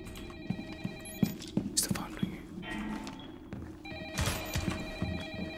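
A telephone rings repeatedly inside a house in the Rainbow Six Siege Mad House event, with a tinny, steady bell tone under players' hushed talk and scattered footsteps and thumps.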